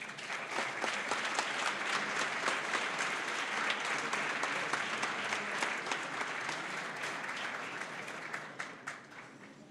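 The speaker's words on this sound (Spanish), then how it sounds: "Lo recibimos con un aplauso." Sustained audience applause welcoming philosopher Dr. Mario Bunge to a lecture on the philosophical background of science and pseudoscience, a dense, steady wash of many hands clapping that holds at an even level for about ten seconds before easing slightly at the end.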